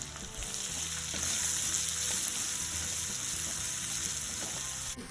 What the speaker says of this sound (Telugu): one and half tea spoon పసుపుని యాడ్ చేసుకొని ఫ్రై చేసుకోండి